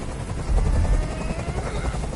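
Helicopter rotor noise in the video game Detroit: Become Human, a loud rhythmic thumping chop that swells in the middle as if passing overhead.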